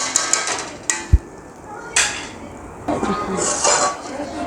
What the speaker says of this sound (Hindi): अब मैं इसमें चावल डालूँगी।